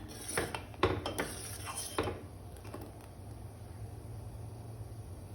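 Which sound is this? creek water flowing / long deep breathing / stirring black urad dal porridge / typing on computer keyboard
stirring black urad dal porridge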